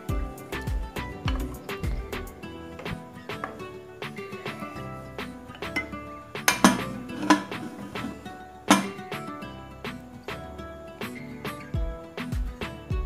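A pressure cooker lid is fitted onto a pot of mutton and water in a home kitchen, making a series of sharp metallic clanks and knocks spaced irregularly, with a few louder bangs midway.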